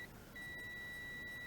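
A digital multimeter set to continuity mode gives a steady electronic beep as its two test leads touch, a sustained tone holding for over a second, loud and close against a quiet background.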